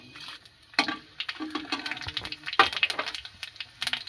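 Two dried red chillies, a pinch of five-spice and two bay leaves hit hot oil in a kadai, giving quiet, scattered crackles and small pops with short gaps between them.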